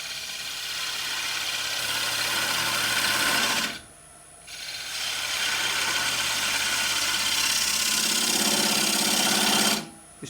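A wood lathe spins steadily while a gouge takes light cuts with the bevel rubbing, giving a continuous scraping whir that drops out briefly near the middle and again at the end.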